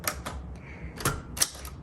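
An Adler J5 manual typewriter from around the late 1960s to mid 1970s strikes three sharp, close keys in quick succession, with crisp metallic snaps and light mechanical rattle between them.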